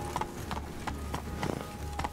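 Horse hooves clip-clopping in the video game Witcher 3: Blood and Wine, a steady trotting rhythm of distinct knocks on hard ground, close and moderately loud, with no talk.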